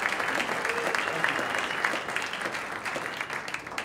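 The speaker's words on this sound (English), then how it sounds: "round of applause for iAccess Life" Applause from an audience at a startup showcase event for iAccess Life, a dense steady wash of many hands clapping that holds for several seconds and thins slightly toward the end.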